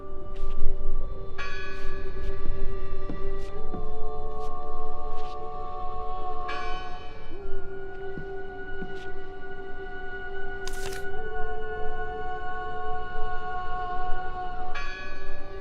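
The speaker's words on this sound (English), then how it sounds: "Listen! The bell! They're still in there!" Church bell in the Draugen video game, tolling repeatedly with long ringing overtones that layer and sustain over a low ambient rumble, loud and continuous, no talk.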